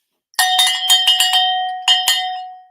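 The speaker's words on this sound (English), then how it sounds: "where's my bell?" A handheld bell rings out loudly and close in two bursts, a rapid run of bright clangs followed by a pause and two more strikes, the metallic tone ringing on and fading without any talk.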